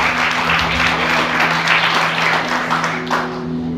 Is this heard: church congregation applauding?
yes